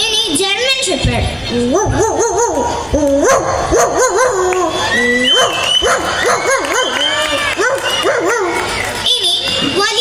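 A human voice imitates a German Shepherd's barking and whimpering in a steady, lively run of yelps and barks, close and loud, during a mimicry performance of animal sounds.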